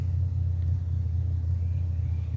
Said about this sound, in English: My buddy's warming up his drag car.